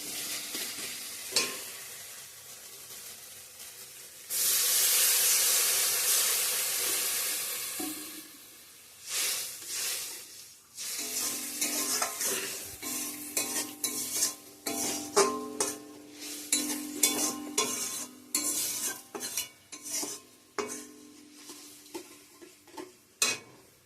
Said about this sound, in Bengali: তো আমার মশলাটা কষানো হয়ে গিয়েছে, এখন জল দিয়ে দিব।